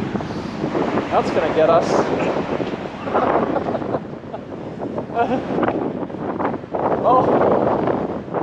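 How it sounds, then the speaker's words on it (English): Strong wind buffets a microphone while motorcycling along the Pacific Coast Highway on the Oregon coast near the dunes, a loud continuous roar with gusty surges, and people talk briefly over it. "Look at the wind."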